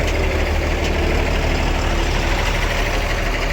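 A bus from Bengaluru's Mangalam depot idles at Kempegowda bus stand in the early morning, a steady low diesel rumble that runs unbroken and fairly loud, with no voices over it.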